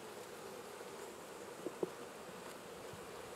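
Honeybees in an open hive that still holds brood, a steady soft buzzing hum throughout, faint and even, with a couple of brief light knocks.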